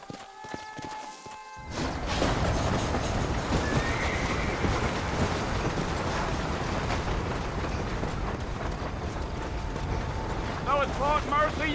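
A horse in the Red Dead Redemption video game whinnies and snorts over a dense, continuous rush of clip-clopping hooves and rattling tack, loud and close after a brief quieter opening with a voice.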